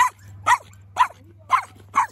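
A dog barks in a vet clinic waiting line before its shots, giving five short, evenly spaced woofs, close and fairly loud over a low steady hum.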